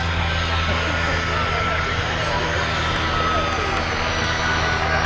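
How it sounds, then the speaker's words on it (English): A Piper Cub light aircraft flies over a 2013 airshow at Cosford, its engine a steady, loud drone that holds throughout. "Amazing little aeroplane, the Piper Cub."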